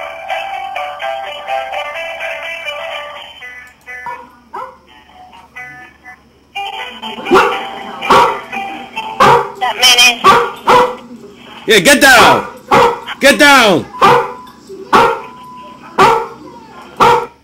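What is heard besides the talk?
dog barking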